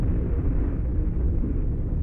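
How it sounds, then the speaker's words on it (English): A commander unit blows up in the strategy game Planetary Annihilation, a heavy low rumbling blast that rolls on continuously and loud without a sharp peak, with no talk over it. "yeah, it was a big explosion."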